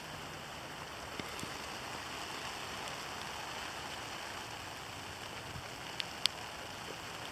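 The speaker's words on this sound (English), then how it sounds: "it's like a Graupel Sleet mixture. It's purely winter precip though, with a bit, maybe a bit of rain mixed in." A mixture of sleet and graupel falls with some rain during a November wind storm. It makes a steady, dense hiss with a few sharp ticks of pellets striking nearby.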